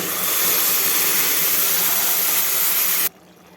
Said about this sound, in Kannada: ಈಗ ನಾನು ಇದಕ್ಕೆ ಏಳು ಕಪ್ಪು ನೀರು ಸೇರಿಸ್ತಾ ಇದ್ದೀನಿ